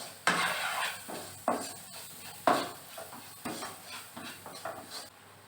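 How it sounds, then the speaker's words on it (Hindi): Spices are stirred into a pan of cluster beans and potato sabzi with a few scraping strokes, each followed by soft sizzling that fades, close and steady. "अभी सभी मसालों को अच्छे से मिक्स कर लेना है।"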